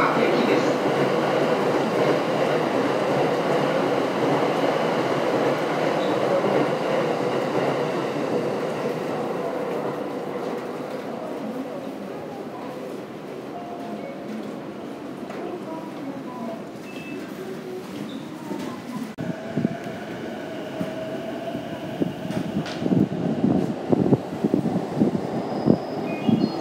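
A JR train rumbles along a platform at Akihabara Station, with a continuous loud rolling roar that eases and then builds again into rhythmic wheel clatter, and faint announcements in the background.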